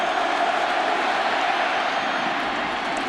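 Steady, loud roar of a large stadium crowd at a 2006 Michigan at Penn State college football game, a dense continuous wash of voices and cheering loud enough to force changes at the line of scrimmage.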